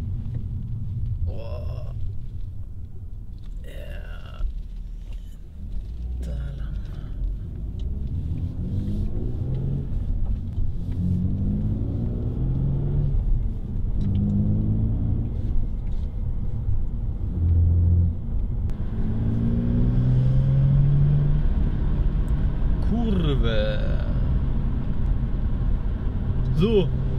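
A car accelerating on a detour road, its engine rumbling and revving up steadily in the cabin under ongoing talk, the pitch rising through stretches as it speeds into a curve.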